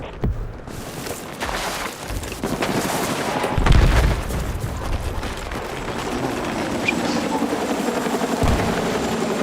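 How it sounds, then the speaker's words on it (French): A helicopter roars continuously through a Battlefield 6 battle, thick rotor and engine noise with scattered booms and gunfire thumps mixed in, loud and dense throughout. "En hélicoptère"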